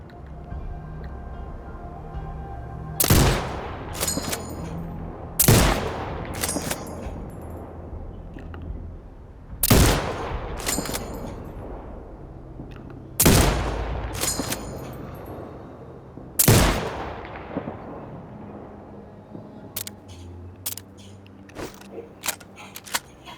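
Sniper rifle shots in the video game Sniper Ghost Warrior Contracts 2: five loud, sharp cracks spaced several seconds apart, each with a short ringing tail, then a few faint clicks near the end.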